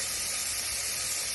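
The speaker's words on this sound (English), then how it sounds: "Love that sizzle." Sausage sizzling in melted butter in a frying pan, a steady, close, bright hiss with no gaps and nobody talking.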